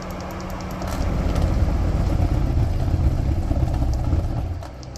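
A rotary infrasonic subwoofer's motor bogs down hard at 16 Hz, giving a steady, loud low rumble and churning drone that swells after the first second and fades near the end.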